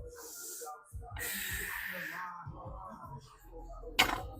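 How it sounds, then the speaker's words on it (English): Breathing for a barbell deadlift: a drawn-in breath, then a sharp, forceful exhale hissing out through the mouth, close and breathy, with brief low talk around it. "make it a forced exhale through the mouth"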